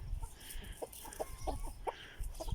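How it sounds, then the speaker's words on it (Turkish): Hens cluck in short, scattered bursts at a moderate distance, with outdoor background noise and no talking. "Artık tavuklarımızı buraya getirdik."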